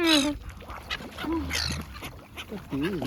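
Several ducks quack in short bursts close by, mixed with voices and chatter, with a steady hum in the background.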